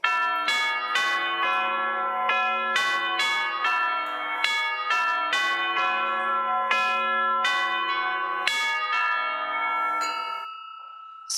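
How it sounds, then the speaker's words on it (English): A church bell tolls repeatedly as a sound effect in a radio drama of A Christmas Carol, about a dozen ringing strikes at a steady slow pace, each blooming into a rich, sustained metallic hum, loud and alone with no voices. "Scrooge awoke suddenly to the toll of the bell"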